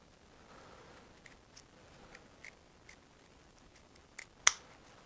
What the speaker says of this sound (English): So to do that, I fold it in half, take my little scissors.